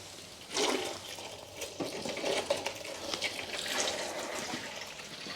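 Engine oil drains from the sump of a 2008 VW Fox 1.2 petrol, a continuous gurgling liquid flow with splashy fluctuations, heard up close throughout.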